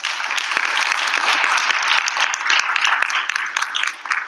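An audience claps for a dancer after a Bharatanatyam arangetram, a full, steady wash of applause sustained throughout at close, even loudness.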